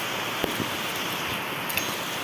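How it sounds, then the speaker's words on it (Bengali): Heavy, steady rain heard through an open window, a dense continuous hiss with a couple of faint knocks, and no voices. "এই দেখো বৃষ্টি হয়েই যাচ্ছে হয়েই যাচ্ছে হয়েই যাচ্ছে"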